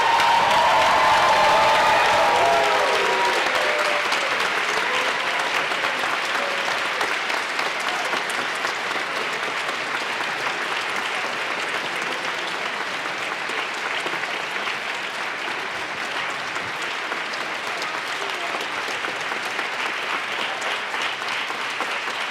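Sustained audience applause fills a legislative chamber after the governor's State of the State address in Colorado, loud at first and then settling into steady, even clapping with a few cheers for over twenty seconds.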